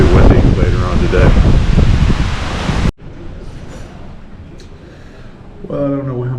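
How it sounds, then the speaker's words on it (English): Strong hurricane winds of 50 to 60 miles per hour roar outside. Loud, blustery noise fills the first three seconds, then drops to a quieter gusting hiss with a voice near the end. "they're telling us these are 50 to 60 mile an hour winds"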